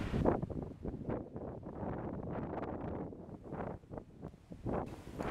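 Storm wind picks up again at a campsite, gusting in loud, irregular surges and buffeting the microphone, with brief lulls between blasts.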